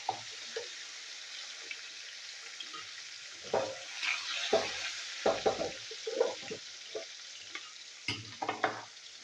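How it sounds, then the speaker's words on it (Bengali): Fish frying in mustard oil in a kadai, a soft continuous sizzle with intermittent stirring and scraping clinks, close and fairly quiet. "তো মাছগুলো আমি ভেজে নিই।"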